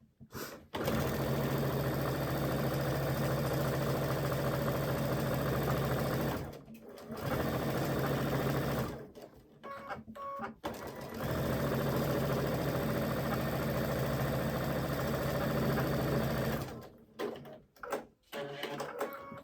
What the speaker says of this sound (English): So I can come in and sew 1/4 of an inch.